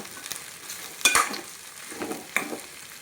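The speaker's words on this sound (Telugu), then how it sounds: "బెండకాయలు వేసుకున్నాం కదా, బాగా బెండకాయలు కలుపుకుందాం" Okra is stirred in a pan with oil for a tomato curry, making a few scraping stirs over a steady, close sizzle of frying.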